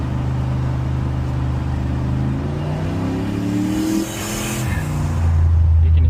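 A turbocharged OBS Ford truck engine with a damaged motor revs up loud and close, its pitch climbing as boost builds and the wastegate opens, then dips briefly before roaring back heavier.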